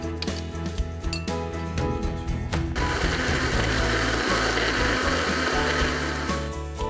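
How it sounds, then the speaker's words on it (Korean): A kitchen blender grinds halved tangerine flesh into juice, a loud steady whirring motor that shifts to a smoother, fuller roar partway through as the pulp breaks down. "귤을 반으로 잘라 알맹이를 꺼낸 후 믹서에 갈아주고요"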